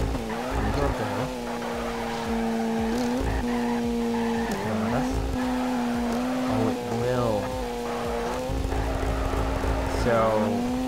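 Drifting car in the Torque Drift racing game, a JZX100 build, engine droning steadily with long screeching tire squeals during an extended handbrake slide, loud and continuous with talking over it.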